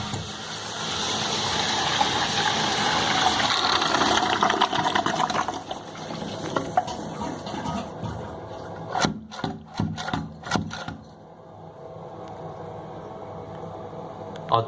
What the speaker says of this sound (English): You have to keep pulling the chain just to get it to work.